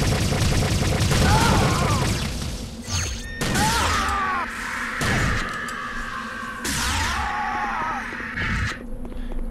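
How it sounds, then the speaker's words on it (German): Energy grenades fired in the Star Trek Voyager Elite Force video game, several loud booming blasts with sweeping electronic tails and clattering impacts, spread across a busy game soundscape. "Probieren wir mal die Energiegranaten aus."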